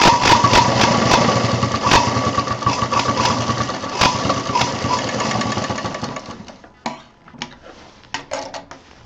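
A sewing machine stitching fabric for a handbag, running in fast rhythmic bursts close by, then slowing into a few short, separate stitches as it trails off.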